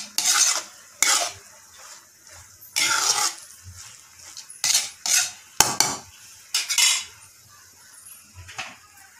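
A vegetable poriyal of greens with coconut is stirred and sautéed in a pan, with repeated loud scraping strokes of a utensil in irregular bursts separated by quieter pauses.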